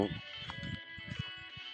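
Goats on a goat farm give a short, wavering bleat at the start, followed by low, scattered grunts and pen noises nearby.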